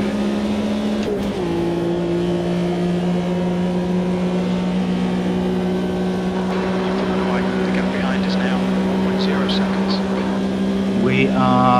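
A race car in the Automobilista 2 racing game roars steadily, with an abrupt pitch drop as the clutch is dumped early on, then a loud sustained engine drone that climbs again as it revs toward the end.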